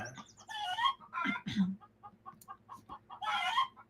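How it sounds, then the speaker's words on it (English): Hens clucking around a laying hen: repeated close, nasal clucks and short squawking bursts in an uneven rhythm, with a few low grunting notes between them. "We got a chicken laying the egg right there."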